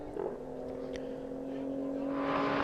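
Renault Sport Trophy race car at the Red Bull Ring, heard as a steady engine whir that grows louder as the race leader approaches, with a commentator talking over it.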